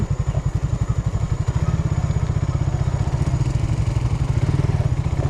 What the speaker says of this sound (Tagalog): Ahon nga ano yun kay Eric na motor